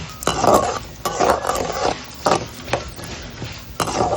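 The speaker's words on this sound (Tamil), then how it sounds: "மீடியம் ஃப்ளேமில் வச்சு வதக்குங்க" Ginger, green chilli and curry leaves sauté over a medium flame for semiya rava idli, with a spoon scraping and clinking against the pan in repeated strokes over a light sizzle.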